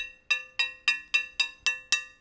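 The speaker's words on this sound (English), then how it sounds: "But instead, they're ringing" Soldered double shotgun barrels with a rib attached, struck seven times at a steady pace, each hit ringing out with a bright metallic tone that decays between strikes, close and clear with no talking.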